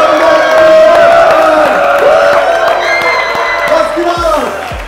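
A crowd at Gamescom 2015 cheers and whoops loudly, with some clapping mixed in and voices shouting over the noise, fading slightly toward the end.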